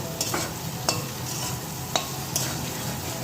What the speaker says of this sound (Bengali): দেখো বন্ধুরা মশলা কষা চলছে